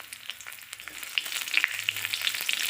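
Chopped garlic and three slit green chilies frying in hot oil in a pan, a steady crackling sizzle with scattered sharp pops, growing denser toward the end.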